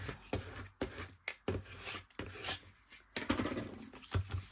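Paper ephemera being burnished down onto an envelope, heard as a run of close, dry rubbing and scraping strokes in an uneven rhythm, with no voices.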